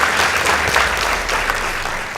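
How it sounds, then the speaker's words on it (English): Dense, steady applause from a school debate audience fills the hall for a couple of seconds, loud and continuous with no talk over it, as results between two high school teams are announced. "Please give them a round of applause."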